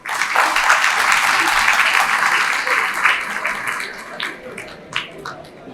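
An audience at a National Youth Day gathering breaks into sustained applause, dense and loud at first, then thinning into scattered claps as it fades toward the end.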